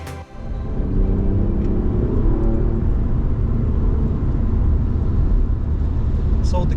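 Steady, heavy low rumble of an Alfa Romeo Giulia Quadrifoglio with an 8-speed ZF gearbox on the move, a constant engine and road drone holding at one level throughout.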